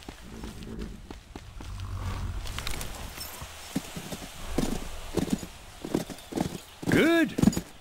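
Rhythmic clip-clop of horse hooves at a walk in the game Call of Juarez: Bound in Blood, with a horse whinnying near the end and some talk and game ambience around it.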